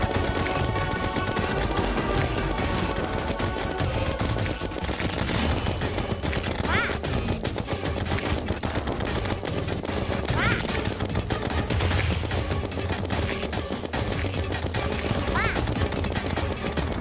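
Rapid gunfire from a gun in the Terraria video game, a dense, continuous stream of shots running the whole time at steady loudness, mixed with game music and effects.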